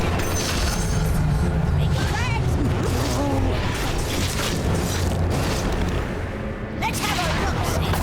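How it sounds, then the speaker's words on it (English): A scatter gun firing in a video game, heavy booming blasts and mechanical clatter layered with busy game effects, dense and loud throughout, with talking underneath. "That's my scatter gun."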